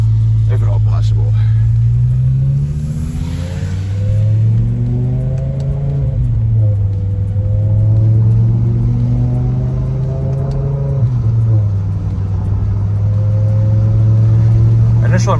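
A BMW E60 M5 with a freshly installed lightweight flywheel accelerating, its engine note droning steadily from inside the car and rising and falling in pitch as the revs climb and ease off.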